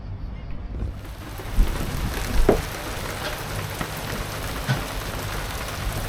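Steady, dense rain hisses and patters across a surface, loud and continuous, with a few sharper drops and thuds standing out.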